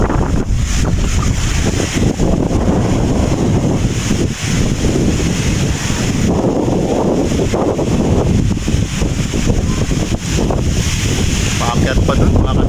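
Strong gusting wind buffets the camera microphone on a ride up Mt. Samat in Bataan, a loud continuous roar with rumbling surges throughout and no clear talk.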